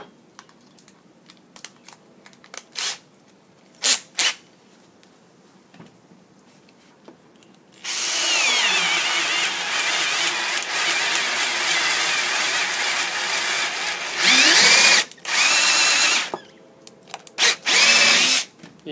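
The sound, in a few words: drilling through wood with a sharpened Harbor Freight ship auger bit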